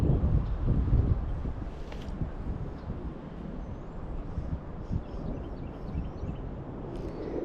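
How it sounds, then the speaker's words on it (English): Wind blows across a neighbourhood pond, buffeting the microphone with a low, rumbling roar that is strongest at the start and then settles into a steady gusty hiss. "Now the wind's blowing straight down it."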